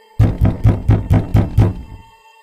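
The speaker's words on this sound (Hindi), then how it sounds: "तभी उसको अपना दरवाजा खटखटाने की आवाज आती है" Someone knocks on a door six times in a fast, even series of loud, close raps. A faint ringing tone lingers after the knocks, and no one speaks.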